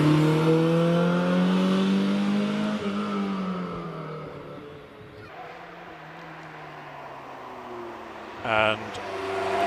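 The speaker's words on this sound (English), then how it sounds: "And Martin Jones is our last of our Ferraris, gracing Prescott with the lovely lines of their bodywork." A Ferrari at the Prescott hill climb accelerates away, its engine note rising and falling through gear changes before fading into the distance, with a brief sharp burst near the end and a commentator talking throughout.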